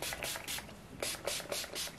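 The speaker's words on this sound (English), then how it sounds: "So I'm gonna go ahead and spray my hair. I'm just gonna spray this all over." A pH-balancing spray with apple cider vinegar misted onto hair in several quick, close pumps, short airy bursts spaced roughly a quarter second apart.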